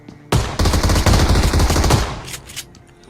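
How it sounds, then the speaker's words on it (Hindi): Shotgun fire in the BGMI battle royale game, loud close shots running together into a dense burst of about two seconds, followed by a couple of fainter echoing blasts. "दूसरा शॉट मैंने मार दिया, तो अच्छा हुआ कि मेरे पास शॉट गन था"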